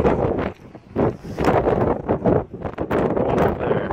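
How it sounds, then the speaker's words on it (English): Strong gusts of wind buffet the microphone in heavy, irregular bursts at the base of a tall rock at Smith Rock, loud and close, with brief lulls between blasts. "Windy today."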